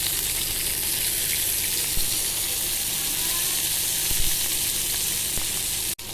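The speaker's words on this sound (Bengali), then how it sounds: "এখন কর্নারগুলোকে বা সাইডগুলোকে ভালো করে ভাজা হচ্ছে" Large pieces of beef fry in a pan with a dense, constant sizzle and crackle, loud and close, with a few faint clinks and no talking.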